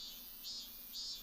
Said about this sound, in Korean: 문제는 수년 전부터 매미가 밤낮을 가리지 않고 운다는 것.